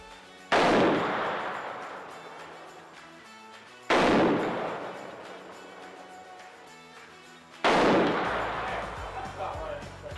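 Traditions NitroFire muzzleloader fitted with a muzzle brake firing 120 grain loads outdoors, three loud sharp shots spaced several seconds apart, each with a long decaying echo.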